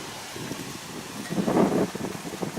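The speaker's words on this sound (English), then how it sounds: "the wind's starting to pick up" Wind blowing outdoors, a low gusty rumble across the microphone that swells briefly midway, close and moderately loud.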